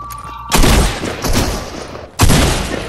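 Video game gunfire crackles in loud, dense bursts, one long volley followed by a brief lull and then a second sharp burst, with no talking.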